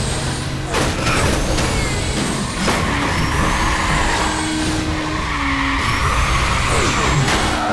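Racing car engine in Burnout Revenge screaming at high revs, a loud continuous roar with shifting pitch, tire skids and rushing road noise throughout.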